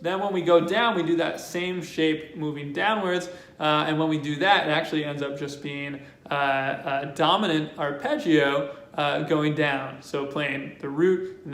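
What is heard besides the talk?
No everyday noise stands out behind the speech.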